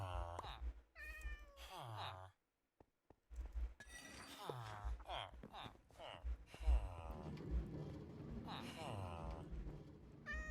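Cat meows from a Minecraft video game, several short harmonic calls spread through the clip, mixed with game sounds and someone talking over them.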